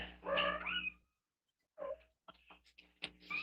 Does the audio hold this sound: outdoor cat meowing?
yes